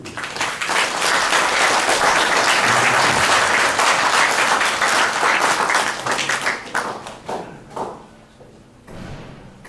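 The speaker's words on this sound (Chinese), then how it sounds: "让我们再次来拍掌，谢谢" A church congregation bursts into loud, dense applause during a joint service installing elders and deacons; the clapping holds steady, then thins out with scattered thumps and fades.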